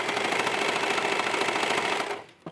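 A sewing machine stitches ribbed trim onto a sports bra, giving a fast, even mechanical whirr for about two seconds before it stops, followed by a soft click.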